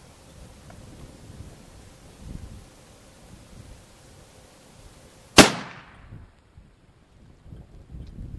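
A single sharp, loud crack of a long-range rifle firing a 375 GIBB's cartridge in an ultra-long-range shoot, followed by a brief decaying echo, with soft outdoor wind ambience before and after.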